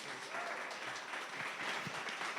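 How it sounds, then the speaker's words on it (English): An audience at a live brewery event claps steadily, a dense, even patter of many hands heard fairly faint and at a distance. "that deserves a round of applause for the hard work you guys done"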